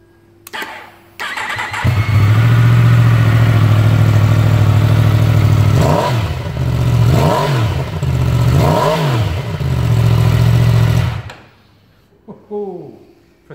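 A 2016 Yamaha MT10 motorcycle on its standard exhaust cranks and fires up, then idles loudly and close by, with three sharp throttle blips before the engine cuts off, followed by a few brief clicks.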